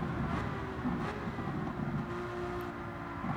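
Steady V12 car engine rumble with faint crackles and pops over a low drone, sounding like the engine on overrun while driving.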